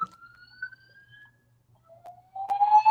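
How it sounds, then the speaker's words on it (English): A fire alarm going off in a room, a thin rising electronic tone that fades, then returns louder with harsh layered beeping near the end, without talk. "Fire alarm going off."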